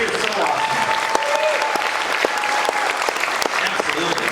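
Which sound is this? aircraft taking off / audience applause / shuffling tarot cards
audience applause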